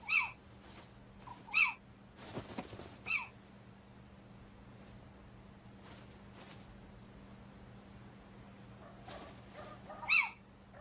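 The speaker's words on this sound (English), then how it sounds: "One little owl is distracted by bright lights." A little owl calls at night in Venice: a few clear, high, short hoots spaced several seconds apart over a faint low hum, with one brief rustling burst between the early calls.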